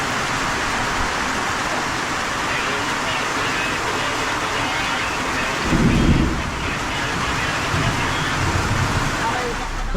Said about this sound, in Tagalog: Tapos may mga kulog at kidlat pa eh